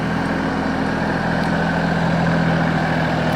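A farm tractor idles steadily on a homestead, its low engine drone constant and close throughout with a faint higher whine above, no talk over it.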